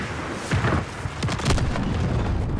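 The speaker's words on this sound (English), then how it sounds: "Airstrike." An airstrike in Call of Duty: Modern Warfare lands as a series of heavy booming explosions with rumbling low blasts, loud and continuous.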